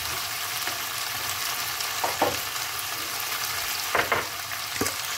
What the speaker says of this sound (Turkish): Biraz da bunlarla kavurayım.